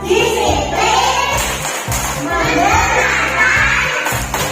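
Indonesian schoolchildren in a third-grade classroom chant together while clapping in a steady rhythm, a loud, close group of young voices with repeated claps throughout.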